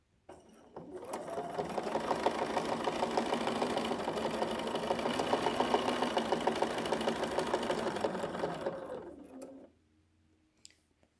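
A sewing machine stitches a quilt along a straight-line ruler for a Mobius design, running in one steady, even burst of about eight seconds before stopping into near silence.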